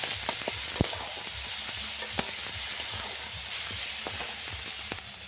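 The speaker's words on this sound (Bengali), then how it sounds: "দিয়ে একটু সময় কষাতে হবে।" Onion paste, ginger and tomato fry for a fish curry with a steady, close sizzle and hiss, broken by a few sharp spatula taps against the pan; no one talks.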